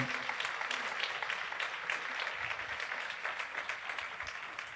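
A church congregation applauds in a steady, dense wash of clapping that holds at an even level throughout, with faint voices mixed underneath.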